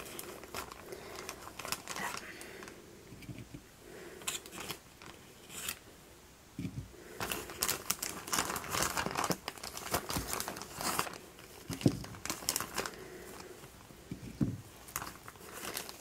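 A damp paper towel crinkles and rustles as it is handled for laying out lily bulbils, giving irregular soft crackles and taps at close range with some background noise.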